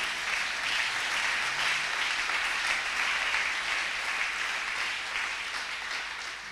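A church congregation claps and acclaims the Lord during a sermon, steady dense applause filling the whole stretch at even loudness, with no speech over it.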